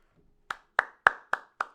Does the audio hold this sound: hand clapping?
yes